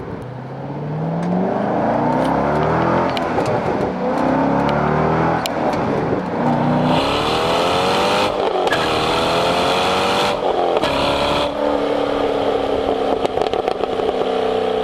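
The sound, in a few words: Corvette Corsa Sport exhaust revving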